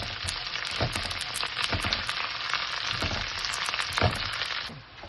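Ginger, garlic, green chili and curry leaves sautéing in hot oil for beef pickle, a steady bright sizzle throughout with periodic stirring scrapes, ending as the sizzle drops slightly, no talk.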